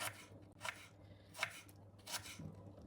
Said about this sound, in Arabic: هلأ عم بفرم بصل مشان حشوة الكبة